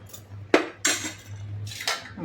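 Several sharp metallic clanks and clinks of a metal lid against a pot of simmering eggplant kuzhambu, spaced apart over a low hum.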